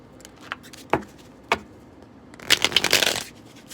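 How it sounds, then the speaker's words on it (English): Linen-finish cardstock tarot cards are riffle shuffled, a few sharp taps of the deck squared up on a table followed by a dense, fluttering ripple of cards interleaving, crisp and close with no voices. "I know some of you are probably cringing because of the riffle shuffle, but I do riffle shuffle."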